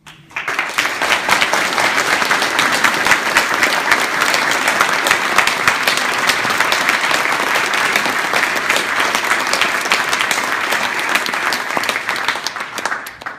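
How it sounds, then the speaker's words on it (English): Sustained applause from an audience in a room at a celebration, steady dense clapping that fills the space for over ten seconds before tapering at the end. "you two ought to be applauded."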